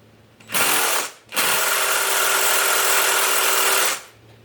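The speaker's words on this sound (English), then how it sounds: "I got a drill big enough to take that out of there, but I'm going to shut it down for a second" A power drill runs loudly and close while a post vise is being rehabbed, two bursts: a short one, a brief stop, then a longer steady whine before it cuts off.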